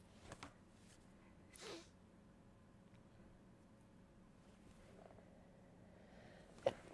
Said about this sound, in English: Excuse me. I sneezed.